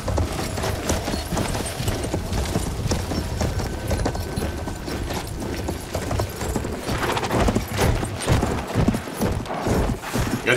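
Horse hooves clip-clop at a gallop in the Battlefield 1 video game, set in a dense, busy battle mix of rumbling and clatter that runs loudly and steadily for the whole stretch.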